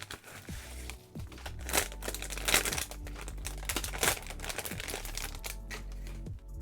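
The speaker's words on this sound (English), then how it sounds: "So let me unbox both these and let's see how does they work." Packaging for a KZ AM02 DAC and T8 upgrade cable being opened, giving close, continuous crinkling and crumpling of plastic and card with scattered rustles and taps.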